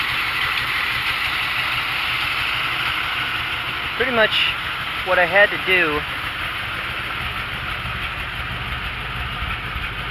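A Ford Ranchero engine idles roughly and unevenly from a missing lug, a steady low rumble running the whole time with someone briefly talking over it near the middle.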